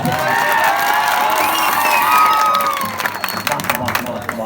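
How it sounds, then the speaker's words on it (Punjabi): A crowd at an outdoor village political rally cheers and shouts, with whoops and scattered claps swelling loudly, then breaking into louder, sharper clapping as the cheering fades. "ਜੇ ਸਾਥ ਦੋਗੇ ਤਾੜੀਆਂ ਮਾਰ ਕੇ ਹੌਸਲਾ ਵਧਾਓਗੇ"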